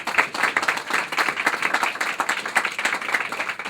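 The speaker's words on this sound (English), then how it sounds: "Give them a round of applause, please." An audience applauds military veterans with dense, steady clapping that fills the whole stretch at an even loudness, with no voices rising above it.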